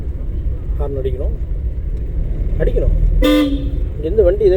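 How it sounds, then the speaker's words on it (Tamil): A car horn gives a few short toots from inside a driving-school car on a road, followed by one longer blast, over engine rumble and an instructor's voice talking. "ஹார்ன் அடிக்கணும்."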